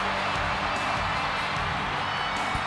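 A loud, steady arena crowd roars in the WWE 2K24 video game at WrestleMania, a continuous wash of cheering with no break across the moment.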